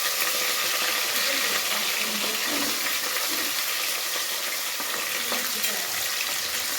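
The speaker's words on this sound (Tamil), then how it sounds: "இது வந்து நல்லா கொஞ்சம் வதங்கட்டும்" Garlic and curry leaves sauté in a pan with a continuous, fairly loud hiss and crackle that stays even throughout.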